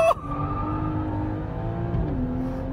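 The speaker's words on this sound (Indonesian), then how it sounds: "injek rem, injek gas, launch control aktif" A BMW's engine revs hard under launch control and holds a high, strained roar as it launches, the pitch climbing slightly near the end; loud and close.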